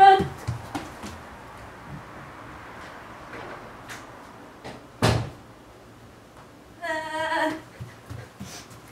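A patio door slides and closes with a sharp thud midway, amid scattered household knocks, clatter and a brief squeal near the end.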